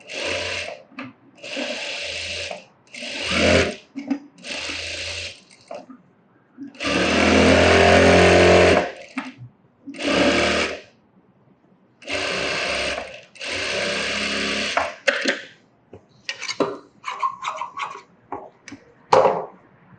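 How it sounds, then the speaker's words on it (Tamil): A sewing machine stitching the seams of a blouse runs in repeated close bursts of whirring, some short and some several seconds long, separated by brief pauses. "இப்போ ரெண்டு சைடும் தையல் போட்டுக்கலாம்"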